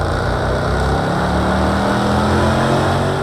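A road car engine from the racing game Project CARS 2 gives a loud, steady drone with a strong low rumble and layered harmonic tones that climb gradually while the revs hold high, all on its own.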